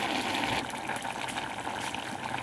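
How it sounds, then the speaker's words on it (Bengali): Water is poured into a pan of dried fish curry with potato and radish greens, making a steady gushing, splashing flow close up that lasts the whole moment without pause. "এই আমি একটু জল দিয়ে দিচ্ছি"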